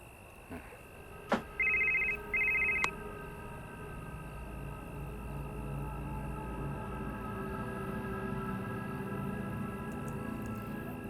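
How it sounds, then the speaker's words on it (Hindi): A telephone gives two short bursts of ringing indoors, then falls silent while a low steady hum carries on for several seconds. "फोन भी आ गया।"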